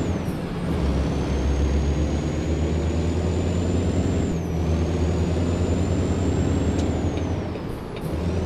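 A heavy haul truck in American Truck Simulator pulls a massive 123,000-pound load, its diesel engine droning loud and steady with a deep low rumble, a thin whine above it and brief changes as gears shift.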